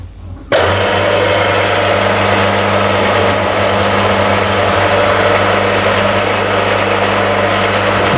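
A power drill boring into a weather vane, running continuously with a loud, steady motor whine that starts abruptly after a moment of quiet and holds unchanged to the end.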